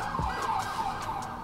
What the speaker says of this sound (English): Never not a siren.